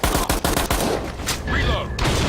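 Shotgun fire in the video game Metro: a quick cluster of sharp, loud blasts up front, then a ringing tail and scattered clatter.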